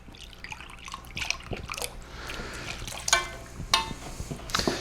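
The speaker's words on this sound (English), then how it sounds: "I'm going to pour it around the edges so that hopefully it goes down to the bottom." Liquid seasoning being poured around the inside edges of a soup pot, heard as a soft, steady trickle and splash with a few brighter drips and clinks near the end, close by and without talk.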